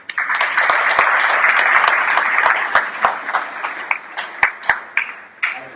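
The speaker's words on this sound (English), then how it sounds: "one more round of applause for them" Audience applauding the organizers at a keynote event, a loud dense round of clapping that thins toward the end into scattered individual claps.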